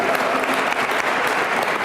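An audience at a school district scholarship award ceremony in DeKalb gives a big round of applause, dense continuous clapping filling the hall with a few voices mixed in.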